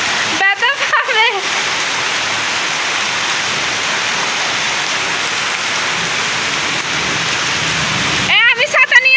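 Heavy rain pours steadily for several seconds in a dense, loud, continuous wash during a family outing at Cox's Bazar. Brief voices and splashing-type transients show up at the start and end.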